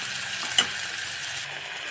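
Tomatoes with jaggery sizzle steadily in a pan, a soft even hiss with one brief stir-clack, heard up close and alone.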